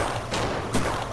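Gunfire in the Shakedown Hawaii video game, a dense run of shots and thuds with a louder burst near the end, close and steady across the short span.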